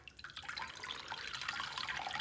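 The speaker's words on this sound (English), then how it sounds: "even with the amount of water that's dripping back in there" Water drips from a soaked washcloth back into a glass, a quiet trickle with small scattered drips, close by.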